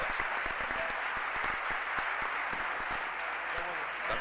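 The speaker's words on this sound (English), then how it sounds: "Big applause for him." Applause from a conference audience at a hacker security panel, a continuous wash of clapping with distinct individual claps standing out nearby, fairly faint and steady for the few seconds heard.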